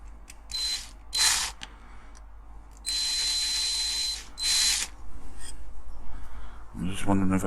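A small drill bores into a Corgi die-cast police Mini van in several short, high whirring bursts with pauses between them, followed by handling noise at the end.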